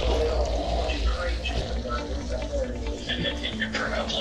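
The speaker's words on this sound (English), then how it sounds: "So what we do now is we run the pump and we run the water." Pump circulating water through a Grainfather all-in-one brewing system during a brew day, a steady continuous rush of flowing water that runs throughout under a person talking.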